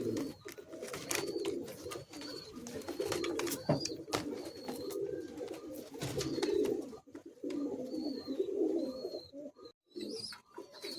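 Madrasi pigeons coo in low, repeated rolling calls, several birds close by, with faint higher chirps and small clicks scattered throughout.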